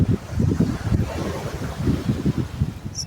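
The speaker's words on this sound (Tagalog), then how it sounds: "Dagat." Wind buffets the microphone over the steady wash of sea waves on a beach at Progreso, Yucatan, a dense, close, continuous rumble with no voices.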